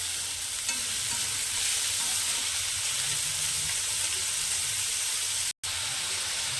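Onions added after green chillies sizzle steadily in a hot pan with oil, a continuous close frying hiss with light stirring scrapes and no talking.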